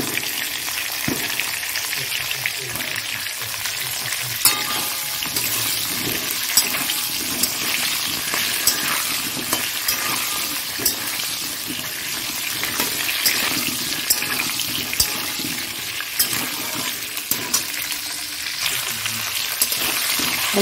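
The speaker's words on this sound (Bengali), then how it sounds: "এবার এর মধ্যে পেঁপেগুলো দিয়ে দেবো, একটু ভেজে নেব হালকা করে।" Papaya pieces frying in oil in a pan, giving a dense, continuous sizzle with occasional stirring scrapes, close and fairly loud throughout with little talk.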